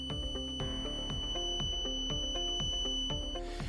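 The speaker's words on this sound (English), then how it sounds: "the Piezo alarm goes off for 3 seconds" Piezo alarm on a DC-25C-2 production efficiency counter with Andon light, sounding a steady, piercing high-pitched tone alongside a repeating mechanical rhythmic hum, continuous and fairly quiet throughout.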